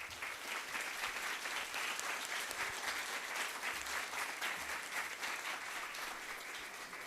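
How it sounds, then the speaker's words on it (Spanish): Steady welcome applause from a seated audience at an arts and humanities congress panel, a fairly soft, even patter of many hands lasting several seconds with no voices over it. "Le damos un fuerte aplauso de bienvenida."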